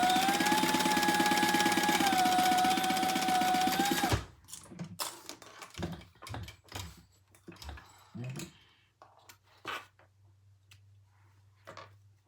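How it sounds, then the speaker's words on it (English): A sewing machine runs steadily for several seconds while seaming and top stitching a thick leather and mesh sling bag at a quarter-inch allowance, then stops and leaves scattered clicks and handling knocks. "So we're just gonna sew this together. 1/4 inch, turn it and top stitch."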